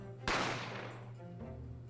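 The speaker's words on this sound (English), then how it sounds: "I didn't have time to think about where the sound of the gunshot had come from" A single sharp gunshot rings out in The Great Ace Attorney Chronicles, a loud, close crack with a long decaying tail over a faint game music bed.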